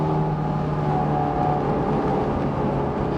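A Scion FR-S under throttle, its engine droning steady and loud from inside the cabin, a constant hum with no clear rise in pitch.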